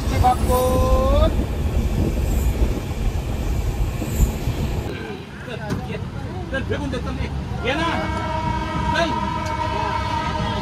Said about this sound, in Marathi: वाजले 4:30 आणि ट्रेन आपली आता झाली रवाना